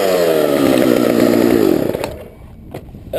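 Chainsaw ripping a log lengthwise, a loud close engine whine that drops in pitch and cuts off, leaving brief quiet with a few faint knocks.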